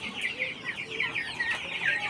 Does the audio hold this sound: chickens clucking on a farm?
yes